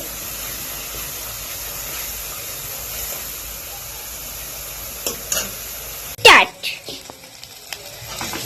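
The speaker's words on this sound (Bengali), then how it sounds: "এবার মশলাটাকে কিছুক্ষণ কষিয়ে নেব" Spice paste with turmeric and salt sautéed and stirred in a pan, a steady soft sizzle and hiss running throughout, with a few louder scraping clatters near the end.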